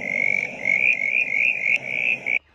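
A brown tree frog calls in a steady, continuous rattling trill with pulsing rhythm, close and fairly loud, stopping abruptly near the end.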